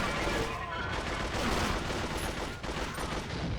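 AK-47 fire in the video game 007: Agent Under Fire rattles in dense, rapid bursts almost without pause, loud and close, with game effects layered underneath.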